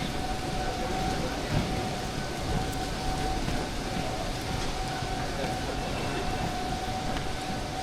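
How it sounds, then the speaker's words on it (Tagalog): Heavy rain pours down steadily during a stormy journey toward an island, a dense, loud, unbroken roar with no gaps and no audible talk. "Grabing ulan, oy."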